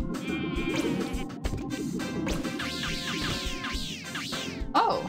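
Sheep in a paint-and-sheep-tossing video game bleat repeatedly in rising and falling cries over a busy, rumbling game soundtrack, several calls overlapping in quick succession.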